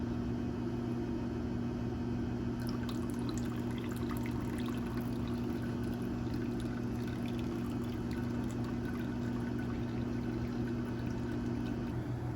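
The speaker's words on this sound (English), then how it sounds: "Okay, we're officially at a boil now." Beer wort with specialty grains rolls at a boil in a brew kettle, giving a continuous bubbling rumble with a steady low hum beneath it, constant and moderately loud throughout.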